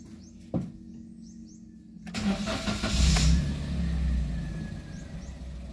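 A Toyota Wigo engine cranks and catches at about two seconds, then settles into a steady idle with a brief loud flare, heard close with no talk.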